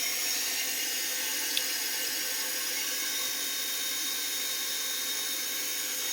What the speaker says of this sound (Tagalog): At ayan ang aking pump.